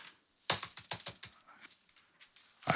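A computer keyboard, used as a typing keyboard with an MPC One sampler, clicks in a quick close burst of keystrokes, then a few sparse softer taps, with a louder keystroke at the end.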